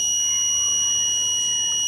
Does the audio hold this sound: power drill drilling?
no